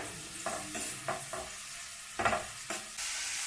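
Onions frying in hot oil for egg bhurji, a soft sizzle broken by several distinct stirring scrapes at an uneven pace, close and fairly quiet, no speech.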